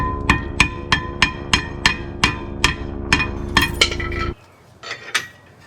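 Sharp metallic clangs from a hammer striking a Jeep JK rear brake rotor, about ten evenly spaced ringing blows, then a pause and a few more lighter strikes.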